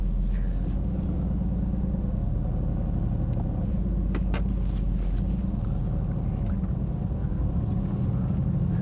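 Deep, steady rumble of a 2018 Mercedes-AMG GT C Roadster's V8 burbling through its active exhaust, continuous and close, with a few faint clicks over the drone.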